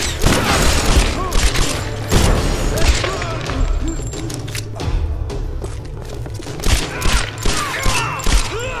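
Repeated gunfire in the 2013 Tomb Raider video game, with loud bursts of shots and heavy thuds firing in uneven clusters throughout, layered over a dense mix of game effects and noise.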